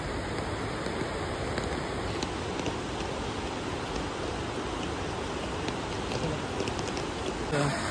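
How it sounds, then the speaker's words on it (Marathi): Dense, steady rain at Marleshwar temple in the Konkan hisses loudly and evenly throughout, a constant broadband roar with no pauses. "इकडे अचानक खूप जोरात पाऊस चालू झाला"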